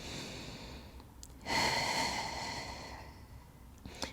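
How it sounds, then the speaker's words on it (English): Controlled breathing held under a core brace during a postpartum corrective core exercise: a steady, close breath sound with a louder, noisy exhale swell midway, then softer airflow fading out, no talking. "We're going to breathe under this brace."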